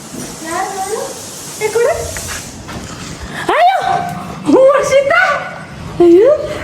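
A house dog barks and whimpers at a visitor, several short yelping barks in bursts, close and loud, with people talking around it.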